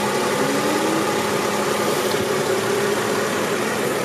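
Mercedes-Benz CLK320 Elegance convertible engine idling, a steady, even hum with no surges or knocks, constant and close throughout.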